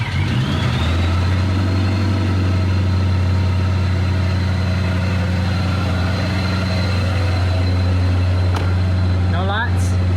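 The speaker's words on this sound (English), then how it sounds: "let's see how this thing runs with all new spark plugs" A 2018 Dodge Charger police car engine fitted with new spark plugs starts and settles into a strong, steady idle close by, with a faint chirp and a click near the end.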